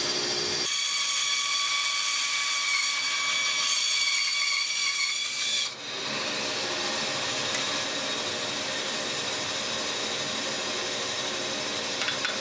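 Quarter sawn wood being resawn on a saw for colored box splines, a steady high whining cut running loud and continuous throughout with a brief dip partway through, no voices.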